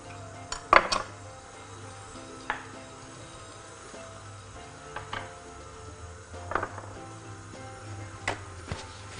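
Cookie ingredients, flour and baking powder, are mixed in a bowl, with scattered clinks and knocks of a utensil against the dish and quiet rustling in between, all without talk.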